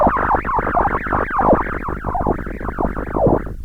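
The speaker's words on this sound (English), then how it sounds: "This noise you're hearing is the audio coming out of the Wogglebug." Random audio output from a Wogglebug modular synthesizer module, a continuous burbling stream of erratic chirps and sweeping pitched blips in quick irregular succession, fairly loud and alone.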